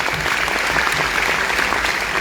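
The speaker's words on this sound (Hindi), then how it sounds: "गली में कपड़ा बेचने वाले इंसान के लिए जोरदार ताली होना चाहिए" A crowd at a motivational speech claps steadily and loudly, a dense, even wash of applause from start to finish.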